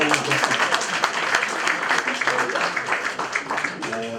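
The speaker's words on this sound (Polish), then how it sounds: "Brawa teraz na" A room of listeners applauds the guest author, historian Dr. Karolina Grodziska, after her talk on the Peter family's history. Fairly loud, continuous clapping runs throughout, with voices murmuring underneath.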